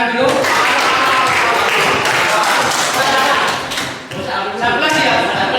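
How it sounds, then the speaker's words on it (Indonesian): A hall audience gives a sustained round of applause, many hands clapping loudly and densely, briefly dipping before swelling again, with voices mixed in. "Kita beri tepuk tangan dulu."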